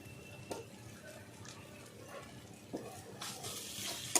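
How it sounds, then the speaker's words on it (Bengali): A spoon stirs coriander leaves into a sizzling kohlrabi and prawn curry with coconut in a pan, making soft scraping and clinking over a low, steady sizzle close at hand. "ধনে পাতা দিয়ে আমি ভালো করে মিলিয়ে নিচ্ছি"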